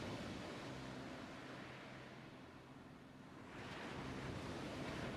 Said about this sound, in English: you can hear the crashing of the waves from afar.